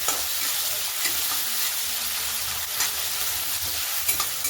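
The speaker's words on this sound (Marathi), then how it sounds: "कांदा छान फ्राय करून घ्यायचा." Chopped onion and green chili fry in hot oil for dhaba-style poha, giving a steady, dense sizzle with faint crackles throughout, loud and close, with no voices.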